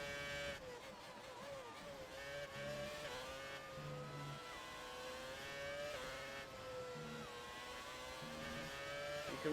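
A Formula 1 race car driven in the F1 2018 video game, its engine whining high and steady, rising and dipping through gear changes as it corners, loud and continuous with no talking.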